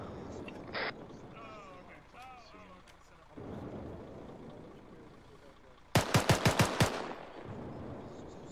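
A quick burst of automatic gunfire, about six sharp rapid shots, rings out loud in a military video game after a quieter stretch with voices and radio chatter.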